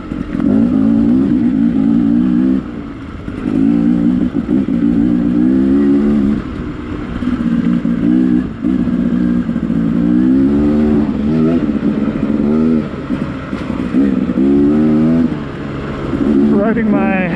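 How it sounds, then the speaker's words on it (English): A Beta 300RR two-stroke dirt bike revving up and down while riding on a rocky trail in Schofield Canyon, a loud close engine note rising and falling in repeated surges throughout. "Riding my trusty 300RR Beta 2-stroke"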